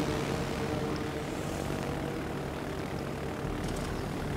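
Carrier planes launching and droning overhead in the naval video game World of Warships Legends, a steady propeller-engine roar that holds at a constant level throughout with no voices.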